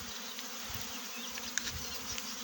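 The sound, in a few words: honeybees buzzing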